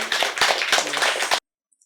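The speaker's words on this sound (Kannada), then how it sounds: "ಜೋರಾದ ಚಪ್ಪಾಳೆಯ ಮೂಲಕ" Audience at a music meditation gathering in Koramangala, Bangalore breaking into loud, close applause, a dense burst of clapping that cuts off sharply into silence.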